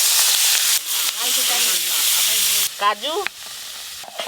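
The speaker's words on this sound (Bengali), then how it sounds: "এবার আমি চিংড়ি মাছগুলো ভেজে নেব।" Prawns sizzle and hiss steadily in a hot pan, loud and close, while a person speaks briefly over the frying partway through.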